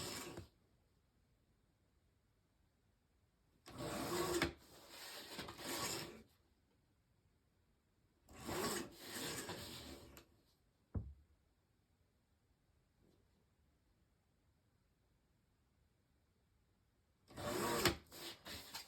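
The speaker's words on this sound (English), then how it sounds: "I just trimmed off just a smidge on each of those sides" Paper or cardstock on a deck of cards holder is trimmed along its sides, with three separate bursts of cutting or rasping a few seconds apart plus a single quick snap, all quiet with silence between.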